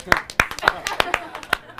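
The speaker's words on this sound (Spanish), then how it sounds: "El público aplaude como si fuera como una conferencia." An audience applauds at a conference-style event, a burst of distinct, fairly sparse hand claps in irregular rhythm, close and clear over a quiet background.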